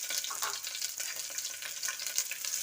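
Onion, garlic and mustard seeds fry in a pan for sambar, giving a steady, close crackling sizzle with small pops and spits throughout and no talk over it.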